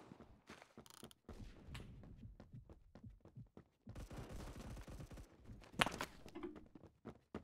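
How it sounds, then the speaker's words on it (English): Scattered gunshots and bursts of automatic fire in the Roblox shooter Phantom Forces, a series of sharp cracks spread through the clip with one louder close shot near the end, fairly quiet overall. "Somebody shot over here"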